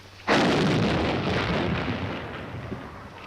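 Artillery gun fired during an army proving ground test at Aberdeen, one sudden loud boom that rolls and decays slowly over several seconds.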